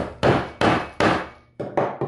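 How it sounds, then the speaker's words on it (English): Five sharp hammer strikes driving a tack into a suspender button on a scrap surface, three evenly spaced and then two in quicker succession, each a loud close knock that fades quickly. "and hammer it in."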